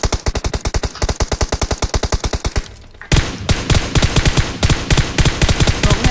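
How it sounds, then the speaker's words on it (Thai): Gunfire in the video game PUBG Mobile: loud, evenly spaced rapid automatic shots in a long burst, a short pause, then another sustained burst. "ยิงไอ้อ้อม"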